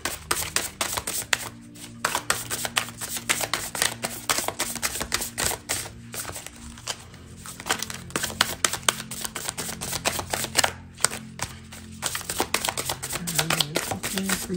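Tarot cards being shuffled, a steady, dense riffling and slapping that runs almost without a break, close and fairly loud.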